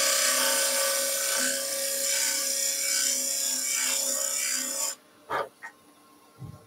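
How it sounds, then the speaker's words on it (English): A fluted parting tool cuts a small half-round bead into spinning wood on a lathe, giving a close, steady scraping hiss with a faint motor hum for about five seconds before stopping, followed by a few brief taps. "I can use this just to produce a little half-round bead."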